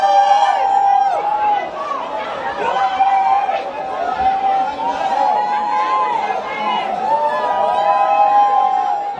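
An angry outdoor crowd jeers and boos a departing minister, a dense, sustained mass of shouting voices and chatter with whistles and cries rising and falling, loud and close throughout.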